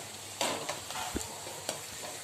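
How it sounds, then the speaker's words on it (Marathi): Onion with curry leaves sautéing in a pan, a steady close sizzle broken by a few sharp scrapes and clicks of stirring, with no talking. "आपल्याला कांदा छान गुलाबी होत परतून घ्यायचा आहे"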